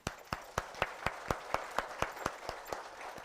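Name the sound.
participants clapping for themselves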